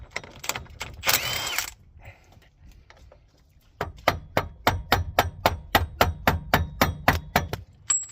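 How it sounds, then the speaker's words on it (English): Steady, evenly spaced metallic hammer taps on a Kia Sorento front axle, about a dozen in quick succession, following a few earlier knocks and a brief scrape. "with an hammer I'm gonna tap on it so the"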